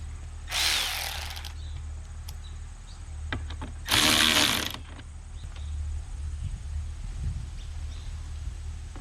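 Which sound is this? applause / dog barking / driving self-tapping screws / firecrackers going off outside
driving self-tapping screws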